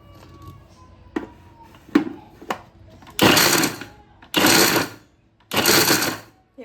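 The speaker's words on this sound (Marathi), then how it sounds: "खजूर वाटताना आपल्याला एक काळजी घ्यायची, मिक्सर कंटिन्यू फिरवायचा नाही, थोडा थोडा फिरवायचा आहे" A mixer grinder pulses in three short, loud bursts of whirring as it grinds sticky dates, with brief pauses between them, after a few softer clicks and knocks of the jar being handled.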